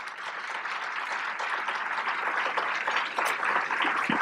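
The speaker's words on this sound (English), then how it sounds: "they deserve a big round of applause" A luncheon audience applauds event sponsors with dense, sustained clapping that holds steady and full throughout, many hands blending into an even wash.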